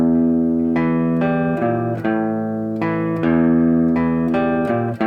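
A repeating riff played on a three-string cigar box guitar, with clear plucked notes and chord stabs in a steady rhythmic pattern, loud and close with no talking.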